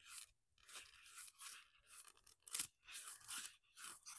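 A brush works wax into the seams of a pumpkin for a primitive farmhouse decoration, making soft, close, repeated bristly scrubbing strokes in an uneven rhythm.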